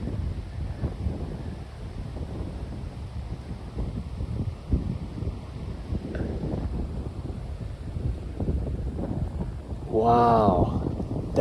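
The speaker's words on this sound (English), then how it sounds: "Can you hear the noise of the wind?" Stormy New Year's Day wind buffets outdoors in long gusty rushes and rumbling microphone noise, with someone talking intermittently over it and a brief louder gust near the end.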